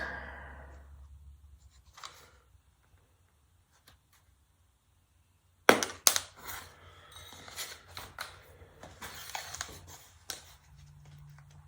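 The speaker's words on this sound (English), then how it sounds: "Let's cut this one to fit." A trim piece for a parlor rosette being cut to fit, a near silent stretch giving way to sharp snips followed by scattered rubbing and scraping, close and fairly quiet, with no voices.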